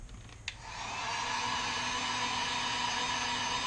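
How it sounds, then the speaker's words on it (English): A heat gun blows hot air in a steady, loud broadband rush that builds up after a brief click and then holds evenly, used while painting a rainbow trout fishing bait. "You shouldn't touch the end of your heat gun when it's sitting on the table."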